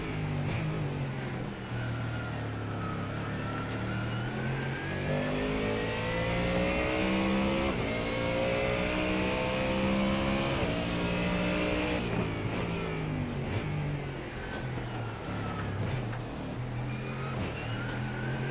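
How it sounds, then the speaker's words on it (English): A Ford Mustang GT3 car's V8 engine in a sim racing game at Misano, revving loud and steady with rising and falling pitch sweeps through gear changes, alone without talk. "The V8 engine in the Mustang making a good old noise."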